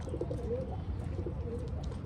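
Pigeons coo softly in low, repeated rounded calls over a steady background hum, the cooing continuing through the short stretch.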